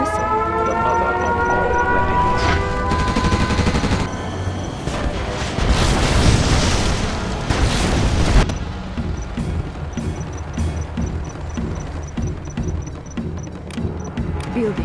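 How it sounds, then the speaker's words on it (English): A nuclear missile strike in the strategy game C&C Generals rumbles in a loud, sustained roar that swells into a dense blast over a siren-like wail, then fades into lingering crackling debris. "We have launched our nuclear missile"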